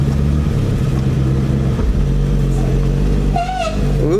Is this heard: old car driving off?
yes